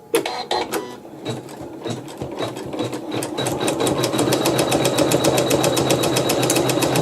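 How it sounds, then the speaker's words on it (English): An embroidery sewing machine stitches a zigzag around the outside of a quilt block, starting with a few hesitant stitches and then settling into a fast, steady mechanical chatter, close and loud with no talk. "we're going to go ahead and stitch a zigzag stitch around the outside"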